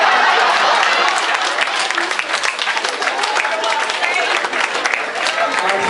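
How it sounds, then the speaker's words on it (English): Crowd applause from a live audience at a spoken-word performance, dense and continuous clapping at close range, slightly fluctuating, with a few voices mixed in. "I appreciate the round of applause from all the ladies in here"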